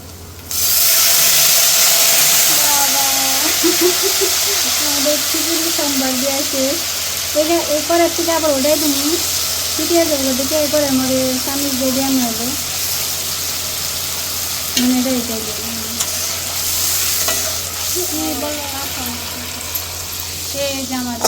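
Dried red chillies fry for khichuri in a home kitchen during a Janmashtami celebration, giving a loud, steady sizzle that lasts throughout. A voice talks over it for most of the time.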